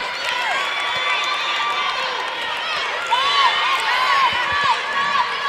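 A crowd cheers and shouts at a girls' volleyball semifinal, a loud sustained mass of voices and yells filling the gym, with a commentator talking over it.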